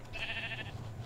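A single short sheep bleat from Minecraft, clear and fairly close, over a low steady background hum.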